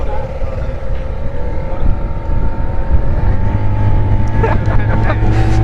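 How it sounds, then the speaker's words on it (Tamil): A twin-engine boat's engines roar steadily up close, a loud droning motor with water rushing underneath, rising slightly in pitch toward the end. "double engine ஓடுதுப்பா"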